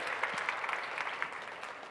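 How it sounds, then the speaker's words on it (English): A crowd at a global investors meet in Karnataka gives a short burst of steady applause for the moderator, Lakshmi, dense clapping with no talk over it. "Once more, big round of applause to Lakshmi."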